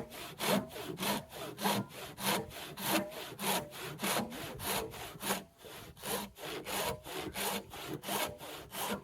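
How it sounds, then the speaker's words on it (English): A hand rip saw cuts through wood in a steady rhythm of about two strokes per second, each push and pull a close, rasping stroke, with one short pause partway through. "with a rip saw, I'd like to have something that has 6 points per inch, but this will work"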